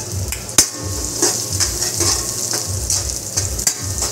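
Garlic and onion sizzle and fry in a pan for a coconut-milk yellowfin tuna jaw stew with kamias, a steady close hiss broken by a few sharp stirring knocks against the pan.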